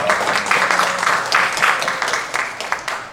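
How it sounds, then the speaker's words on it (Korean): A church congregation claps continuously, steady and fairly loud, the scattered hand claps blending into a sustained round of applause. "우리 하나님께 박수 드리겠습니다"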